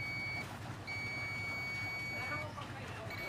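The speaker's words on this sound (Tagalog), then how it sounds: "Test natin tong mga power transistor gamit yung ating tester sa buzzer." Continuity buzzer of a tester probing power transistors on a Thunder Audio car amplifier board, a steady high-pitched tone that sounds in long stretches and cuts out briefly, heard fairly faint and close.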